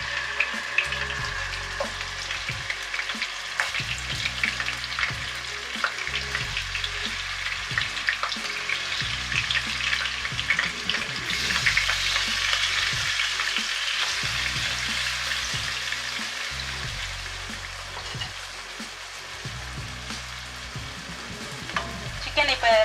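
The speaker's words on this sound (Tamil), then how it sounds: "சிக்கன் வந்து கொஞ்சம் ஃப்ரை பண்ணி எடுக்கணும்." Chicken pieces fry in a generous amount of oil in a pan for capsicum chicken masala, giving a loud, continuous sizzle with occasional stirring clatter close by.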